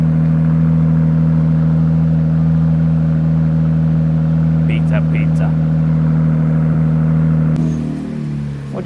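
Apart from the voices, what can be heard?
2026 Ram RHO truck with new exhaust revving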